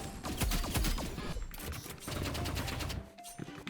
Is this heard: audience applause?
no